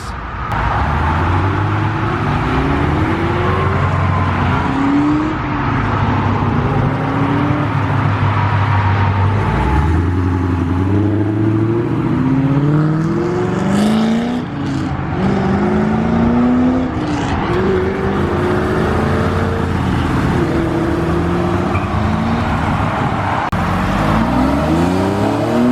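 Pontiac GTO pulling away from a car show, its engine revving and dropping through several rising gear pulls, steady and fairly close with other engine noise around it.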